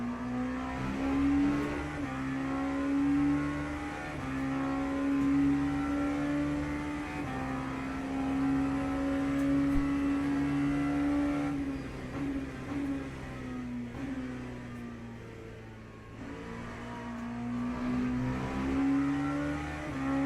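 A hypercar engine revving in Le Mans Ultimate, a sustained high-pitched drone that rises and falls with throttle and gear changes, running loud and steady throughout with a brief dip before climbing again.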